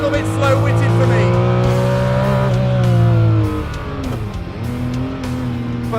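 Ferrari sports car, an F40 or F50, revving hard on a track toward 8,500 RPM, a loud sustained engine note climbing then dropping off after about three seconds as revs fall and rise again.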